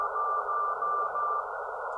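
Radio signal received from the MOVE-I satellite: a steady tonal transmission with short repeated beeps, clear and continuous for about two seconds, with no talking.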